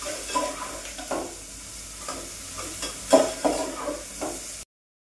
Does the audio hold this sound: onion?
yes